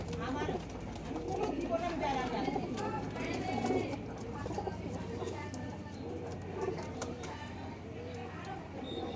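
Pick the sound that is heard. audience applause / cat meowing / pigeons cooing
pigeons cooing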